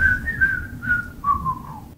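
A lone person whistles a short melody from a new K-pop album, with several clear sliding notes drifting gently downward, faint room noise underneath and no talking.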